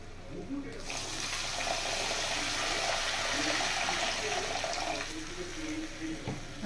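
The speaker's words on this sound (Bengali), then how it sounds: "এবার আমি পরিমাণ মতো জল দিয়ে দেব" Water poured from a vessel into a pan of potato curry, a steady broadband splash and rush lasting a few seconds, fairly close, with faint kitchen sounds beneath.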